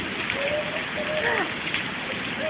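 Hail falls in a storm in Shirley as a steady, dense patter of pellets, with faint thin chirps over the constant hiss.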